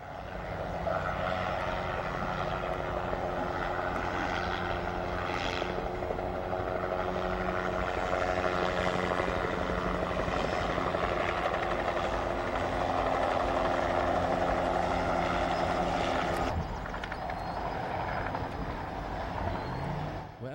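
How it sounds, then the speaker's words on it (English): A low-flying helicopter drones loudly and steadily overhead for a long stretch, its engine roar rising and falling slightly; no one speaks. "this helicopter's flying low and kind of signaling to the people down there"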